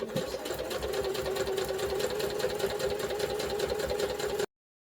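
A sewing machine stitching fabric for a shoe bag near a zipper, a close, steady whirring buzz with a rapid needle rhythm that runs unbroken, then stops abruptly.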